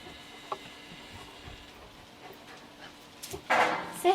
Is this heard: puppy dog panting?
yes